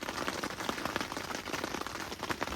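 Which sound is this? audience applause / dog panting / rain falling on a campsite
rain falling on a campsite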